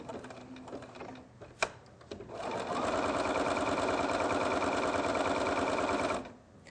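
A sewing machine stitches appliqué with the needle-down function on: a few isolated clicks, then a continuous close, rapid mechanical whir for about three seconds before it stops.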